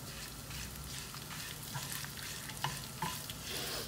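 Ingredients for a curry leaf curry fry quietly in a pan, a soft steady sizzle with a few light taps and clicks of stirring near the end.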